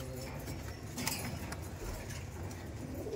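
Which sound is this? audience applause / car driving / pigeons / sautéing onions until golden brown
pigeons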